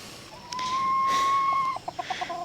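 A rooster lets out a long, sustained call close by, followed by a few short clucks from nearby chickens, with mother hens and chicks around.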